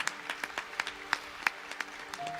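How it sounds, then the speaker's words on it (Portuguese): A church congregation claps, heard faintly, with sharp distinct hand claps spaced fairly evenly. A steady tone and a low hum run underneath. "Pode aplaudir, pode aplaudir."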